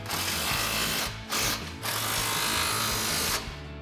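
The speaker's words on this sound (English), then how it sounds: "grab our impact and 15mm socket and tighten our 2 clamps down" An impact wrench fitted with a 15mm socket tightens exhaust clamps on a 2014-2019 Corvette C7 axle-back exhaust. It gives close, loud rattling bursts with two brief gaps between them, and no one talks.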